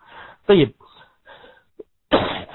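Two harsh, loud coughs during a religious lecture, one burst near the start and another at the end, with quieter speech in between.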